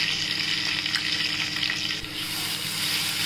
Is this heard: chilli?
yes